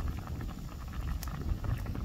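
A pot of crab and sururu mussels boils in a mangrove, a dense close bubbling and gurgling with a low rumble and occasional sharper pops.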